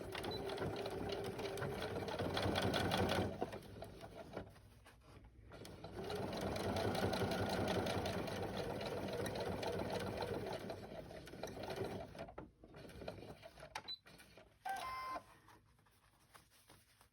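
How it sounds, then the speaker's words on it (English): A Baby Lock sewing machine stitching cotton and denim fabric for a child's backpack, a quiet rapid mechanical whirr in long runs with short pauses and clicks between them. "I love the needle down feature on this machine. I have a baby lock machine"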